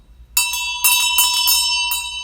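A bright metallic bell rings as a sound effect in several quick strikes, loud and ringing out with a sustained shimmering tone between hits, alone without talk.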